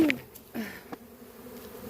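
Honey bees from a swarm being moved into a permanent hive box, buzzing faintly in a brief burst of short rising and falling drones, close by and quiet with no voices.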